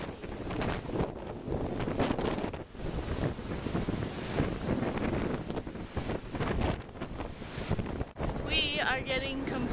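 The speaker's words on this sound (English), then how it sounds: "very windy" Strong wind on a coast with crashing waves roars and buffets the microphone continuously, with surf-like rushing underneath and a brief dip near the end.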